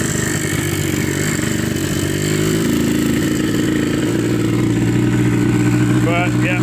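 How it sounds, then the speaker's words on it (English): A quad ATV engine running on a night trail ride drones loud and close with a steady rumble that shifts pitch as it revs; a voice talks briefly over it. "we're out on the quad right now"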